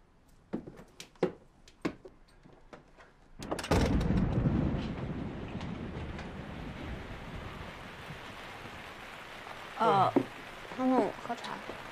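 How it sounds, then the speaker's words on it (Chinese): Rain suddenly starts falling, arriving as a broad wash of noise after a few sharp knocks and continuing steadily, with voices talking over it toward the end. "下雨了，突然就下雨了。"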